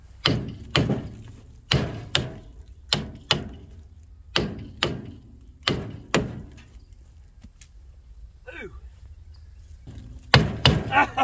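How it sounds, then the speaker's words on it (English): Repeated hammer blows on a 1973 Mustang that sat abandoned in a cow field for 30 years: loud, close metallic thuds in uneven pairs and clusters, a pause with a faint rustle, then a final quick burst of strikes. "Let me get my hammer."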